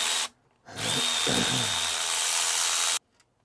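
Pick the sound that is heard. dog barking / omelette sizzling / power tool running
power tool running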